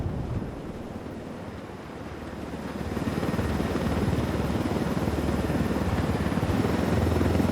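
A low-flying aircraft in the video game Ghost Recon Wildlands gives a steady, dense rotor-like roar that swells louder after a few seconds and then holds, close and continuous with no voices.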